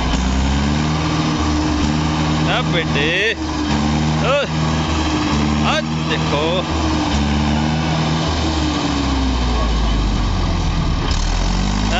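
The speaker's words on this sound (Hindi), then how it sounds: "पूरा जोर लगा रहा है ट्रैक्टर।" A Mahindra 585 XP tractor engine labors under full load, a steady loud low drone with harmonic bands that runs unbroken through the whole stretch while someone talks over it.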